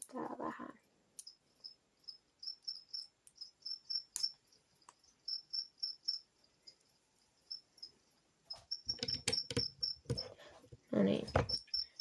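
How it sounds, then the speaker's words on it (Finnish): Grasshoppers chirping in short, repeated high buzzy pulses, faint and steady through a quiet stretch, with someone talking briefly at the start and again near the end. "Se oli tuossa äänestä, ne on heinäsirkkoja"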